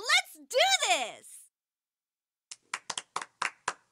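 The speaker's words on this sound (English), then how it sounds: "I don't think the applause is necessary." Scattered applause from a small group in the video game Persona 4 Arena, a short burst of uneven claps arriving after a voice speaks.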